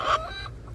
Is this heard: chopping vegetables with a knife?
no